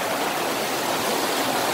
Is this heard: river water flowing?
yes